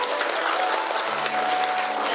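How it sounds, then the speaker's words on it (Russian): Sustained, loud audience applause at a dance competition event in Yakutsk, a dense, even roar of many hands clapping with a faint held tone rising underneath midway. "Давайте еще раз отдельно. Аплодисменты."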